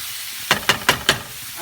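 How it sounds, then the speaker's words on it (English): Four quick, evenly spaced scrapes of a spoon through bolognese sauce in a hot pan, with a faint sizzle underneath, close by and without voices. "I'm just going to give this a quick stir"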